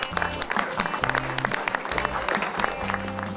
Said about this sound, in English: I really would like you to give yourselves a round of applause